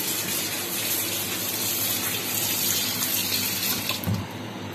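Tap water runs steadily into a sink while homemade butter is washed, a loud continuous gushing splash that eases slightly near the end, with no talking.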